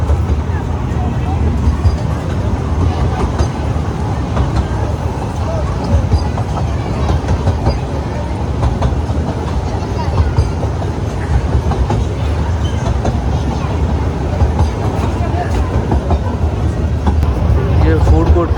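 A toy train at Lucknow Zoo rumbles along with steady clickety-clack and rolling noise, loud and close for the whole stretch, with a busy outdoor bustle mixed in.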